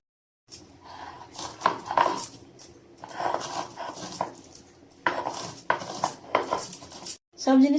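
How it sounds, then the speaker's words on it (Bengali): Garlic and onion being ground by hand on a traditional sil grinding stone, with repeated scraping and knocking strokes in uneven bursts, close and fairly loud, with a short pause near the end. "আমার মিক্সিটা খারাপ হয়ে গেছে তার জন্য সিলেই বেটে নিচ্ছি"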